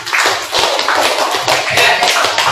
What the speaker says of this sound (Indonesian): Tepuk tangan sekali lagi buat kalian.